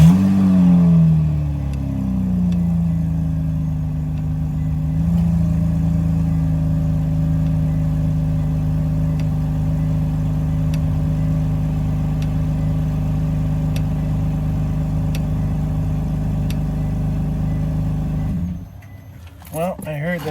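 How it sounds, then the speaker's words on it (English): A 2006 Hyundai Tucson with the 2.7L engine starts up and settles into a steady, loud idle that runs for most of the clip, with a brief rattling noise near the end. "I'm gonna go fire up the vehicle again"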